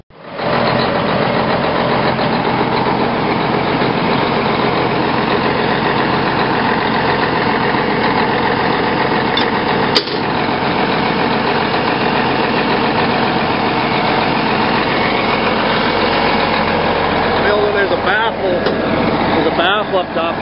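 A big farm tractor engine in north central Montana runs at a steady, loud idle for the whole stretch, a deep continuous rumble with a brief knock partway through and people talking over it.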